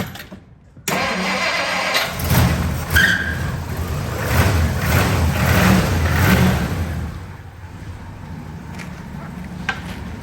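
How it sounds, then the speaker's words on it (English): A 1957 Plymouth Belvedere engine cranks and fires on a cold start after sitting for days, catching about a second in and settling into a loud, steady, slightly lumpy idle with occasional revs that carries on to the end. "cold start, pump it twice, fired right up"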